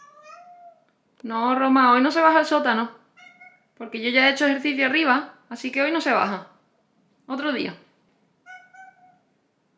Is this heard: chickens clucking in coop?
no